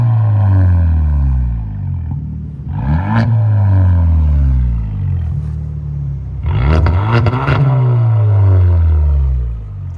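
A 2016 Kia Optima SXL Turbo fitted with a NETAM NTR race muffler revs repeatedly at close range, deep exhaust drone rising and falling in two sharp throttle blips over a steady idle rumble.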